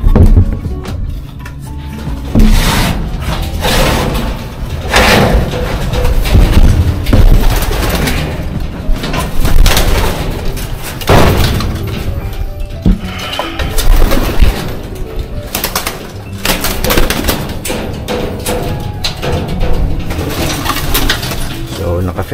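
Racing pigeons in a loft coo and shuffle about, with wing flaps, scattered knocks and clatter over a busy, continuous background, close and fairly loud.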